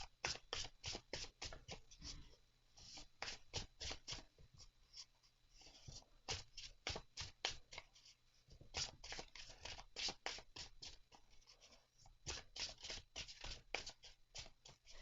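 Quick bursts of cards being riffled and shuffled, crisp papery rustles repeating in clusters with short pauses between, close and fairly quiet.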